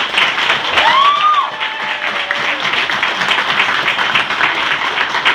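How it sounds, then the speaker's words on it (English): An event crowd gathered for a raffle and walk applauds Kristen, its organizer, with steady, continuous clapping and a short whoop-like voice rising over it early on. "If we get a round of applause for her."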